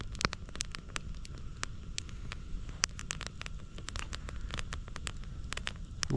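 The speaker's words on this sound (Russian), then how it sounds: "просто время расслабиться, кайфовать и смотреть на огонь" A campfire burns in a snowy winter forest, throwing out frequent sharp crackles and pops of varying strength over a soft, steady background rumble, with no talking.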